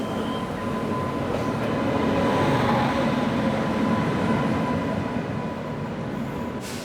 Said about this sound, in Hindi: ये है हरिद्वार बांद्रा टर्मिनस एक्सप्रेस, जो हरिद्वार से मुंबई की तरफ जा रही है और इस वक्त वडोदरा पे अराइव कर रही है